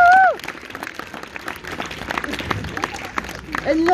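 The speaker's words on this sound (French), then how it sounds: "On peut applaudir Nina, s'il vous plaît." A French television studio audience applauds a young girl named Nina, a dense, continuous wash of clapping and crowd noise that swells toward the end, opening with a short bright tone, with voices mixed in.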